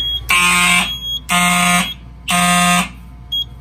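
A Simplex fire alarm set off with a magnet sounds three loud, close electronic horn blasts, each just under a second long with short gaps between them, followed by a faint brief chirp at the end.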